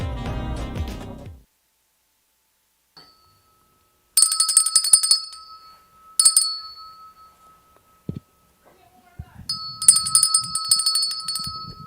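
An old bell, about ten or fifteen years old, rings on a cafe-style talk show in several bright metallic bursts with sustained shimmering tones, separated by near-silent gaps after a short musical sting at the start.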